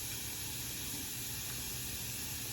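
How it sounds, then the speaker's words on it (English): A sausage link sizzling on low heat in a pan, heard as a steady, faint hiss that carries unchanged throughout. "I'm gonna put this sausage link in there on low heat"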